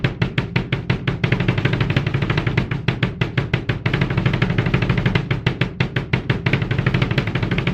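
A double bass drum pattern of steady, rapid kick strokes, alternating slower even beats with faster doubled runs, played loud and close.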